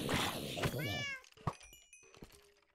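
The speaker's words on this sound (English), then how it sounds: "And there's a cat." A cat in modded Minecraft meows once clearly, and a few faint game chimes follow. Someone talks over the opening.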